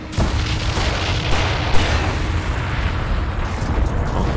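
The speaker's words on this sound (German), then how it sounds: "da haben wir ordentlich was weggesprengt" A loud explosion in the video game Alan Wake fills the moment with a dense, sustained roar of blast and rumble, steady throughout with a small sharp pop near the middle and no voice over it.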